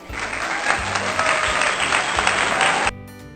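Clapping at a backyard cookout beside a Weber kettle grill: a loud, continuous patter of hands close by that stops abruptly near the end, with no talking over it.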